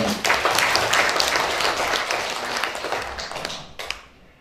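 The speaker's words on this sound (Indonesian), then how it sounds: "Ini aplaus untuk beliau." An audience at an education workshop applauds, a dense burst of clapping that holds steady for a few seconds and then thins out and fades into quiet, with a couple of stray claps at the end.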